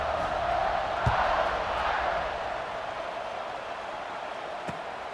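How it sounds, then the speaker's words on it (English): Stadium crowd in EA Sports College Football 26 roaring steadily at a kickoff after a touchdown, a broad sustained wash of cheering that swells early and then eases slightly, with a couple of sharp thuds cutting through. "this crowd now ready to get behind them"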